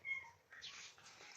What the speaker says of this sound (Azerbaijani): Burada bir tane pişik sesi var.